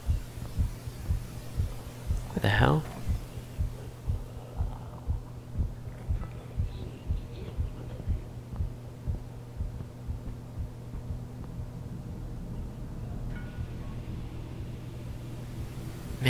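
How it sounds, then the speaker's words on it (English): A steady, rhythmic heartbeat thumps throughout a horror game over a low hum, with one brief exclamation from a voice early on. "I hear my heart beating"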